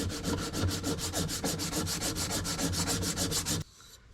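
Coarse 80-grit sandpaper rubs over dried body filler on intercooler piping in quick, rhythmic back-and-forth strokes, a close, steady rasping scrape that stops abruptly just before the end.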